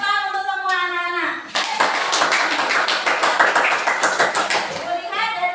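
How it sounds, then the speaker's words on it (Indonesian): Children in a primary school classroom burst into loud, rapid clapping that runs steadily for several seconds, with voices of a teacher and kids before and after the applause. "Ayo, Ibu kasih tepuk tangan untuk semua anak-anak"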